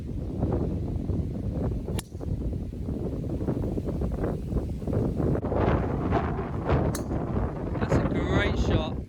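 Strong wind gusts roar steadily across an open golf course during a windy matchplay round, buffeting the microphone throughout, with people talking over the constant rushing noise.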